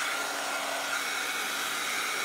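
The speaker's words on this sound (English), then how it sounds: "paint gun or your heat gun, your heat tool" A heat gun blows steadily on paint over a mixed media background, a continuous whooshing hiss of hot air running evenly through the whole short stretch with no speech.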